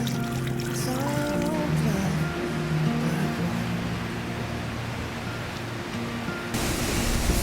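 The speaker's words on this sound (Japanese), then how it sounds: "温泉の滝みたいになっとうよ。" Hot spring water at Kusatsu in Gunma pours down like a waterfall, a loud, constant rushing wash that holds steady throughout, with faint tonal sounds drifting over it.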